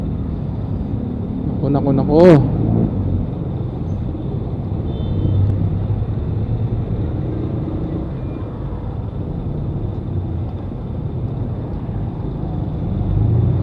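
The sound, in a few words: road traffic noise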